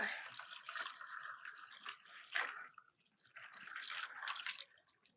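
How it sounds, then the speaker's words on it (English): Water poured from a container into a bowl of ice, a faint splashing and trickling that runs for a couple of seconds, pauses briefly, then resumes. "And then I am going to add my water."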